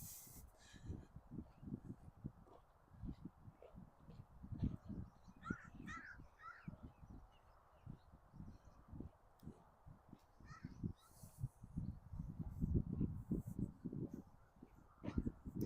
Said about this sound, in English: Probably hear some birds in the background.